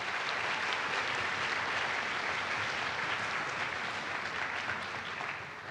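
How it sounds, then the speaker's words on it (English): Steady, even applause from a crowd of parents and students at a University of Arkansas music camp band concert, a dense wash of clapping from a distance that tapers slightly at the end. "Let's give Chris a round of applause."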